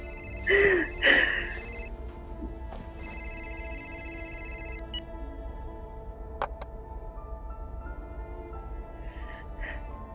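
A phone rings twice in short electronic bursts near the start, then a longer trilling tone follows over a steady low hum, with faint ticks afterward.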